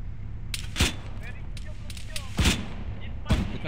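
Gunfire in the video game Arma, three sharp booming shots spaced out over a few seconds with faint radio-style chatter and game ambience between them.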